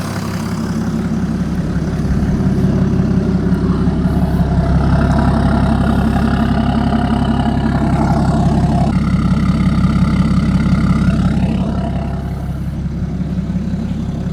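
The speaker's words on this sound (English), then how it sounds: "with straight pipes without any catalytic converters or DPFs, you can clearly hear the turbochargers" A cold BMW E60 with an M57 diesel engine idles on straight pipes without catalytic converters or DPFs, a loud steady low rumble with a faint turbocharger whistle rising and falling over it.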